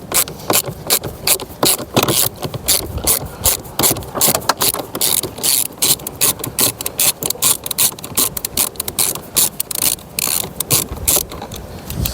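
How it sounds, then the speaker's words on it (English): A hand ratchet undoes a 10mm bolt on a Ford Mondeo front door, giving steady, rapid, close-up clicking in continuous bursts across the whole stretch with no talking. "To take off, I'll start by undoing that bolt. That's a 10mm bolt,"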